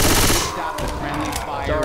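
Automatic gunfire rattles loudly from weapons in the zombie shooter Left 4 Dead 2 during the Dead Center campaign, a dense burst at the start easing into steadier firing with game effects layered underneath.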